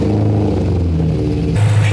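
A BMW E90 M3 with its S65 V8 engine idling rough, a steady close low rumble with a slightly uneven pulse that swells briefly near the end.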